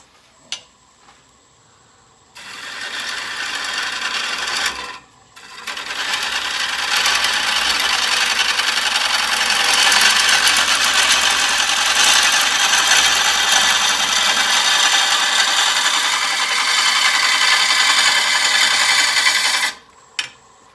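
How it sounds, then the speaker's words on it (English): A wooden bowl spins on a lathe as a tool takes finishing passes, producing a loud, steady scraping rasp that runs for about fifteen seconds, briefly stopping once, with quiet handling knocks at the start and end. "I'm just going to take a few finishing passes and try to rub that bevel to get as smooth as possible cut"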